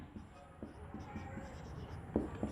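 Chalk or marker strokes on a board during a maths lesson, a few short scratchy taps and streaks, quiet and close, with faint room noise and no speech.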